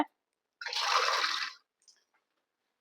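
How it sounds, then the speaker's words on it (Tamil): Water poured from a tumbler into a pot of chicken kurma, a steady splashing pour of a little under a second, close and moderately loud, followed by a few faint drips and quiet. "ரெண்டு டம்ளர் கிட்ட நான் ஊற்றிக்கிறேன்"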